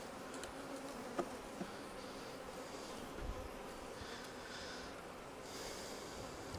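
Honey bees swarm around an opened hive with the super stood on its end, a steady faint buzzing drone that runs throughout, broken by a few soft close thumps and rustles.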